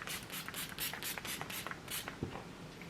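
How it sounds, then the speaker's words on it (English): Gerard Cosmetics setting spray misted onto a face, a quick series of soft, faint pumps of fine hiss in steady rhythm, close to the mic with no talking. "I want to spray my face, and I'm going to use a Gerard Cosmetics setting spray"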